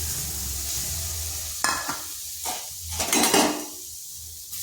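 Grated coconut being lightly dry-fried in a pan, with a few scraping stirs of a spatula and clatters against the pan over a quiet low hum, close by and fairly soft.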